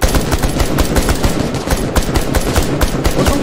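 Fast, loud automatic gunfire in the battle royale game The Culling 2, a dense unbroken rattle of shots close up throughout.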